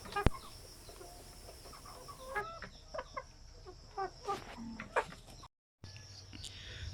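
Chickens on a backyard poultry farm clucking in short repeated bursts, fairly close, over a steady outdoor background with faint voices nearby.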